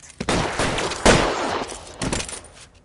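Shootout gunfire in L.A. Noire at a cafe on Broadway, with three loud bursts of shots about a second apart, each trailing into a reverberant decay.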